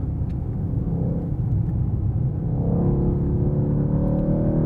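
Continuous interior engine rumble of a Mercedes-AMG E63 S E-Class driven on a racetrack in Sport Plus mode, a loud steady low drone that swells a little as it picks up speed, with no voices.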